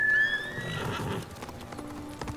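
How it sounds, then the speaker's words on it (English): A horse in Ghost of Tsushima gives a loud, close whinny with a falling pitch, followed by the clip-clop of its hooves and soft game ambience. "Come here, horse."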